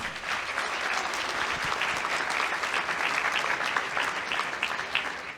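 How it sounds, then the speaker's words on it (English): Sustained applause from a sizable audience at a county executive candidate forum, steady dense clapping throughout with no pauses, fairly close and loud. "You should give yourselves a round of applause for coming."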